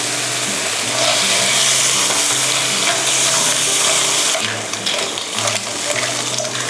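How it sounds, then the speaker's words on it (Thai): Surf clams stir-fried in their shells with chili paste and a splash of water for spaghetti, giving a steady wet sizzle and bubbling close by, with occasional utensil clatter and no talking. "ผัดให้หอยลายเปลือกเป็นสีส้มนะคะ"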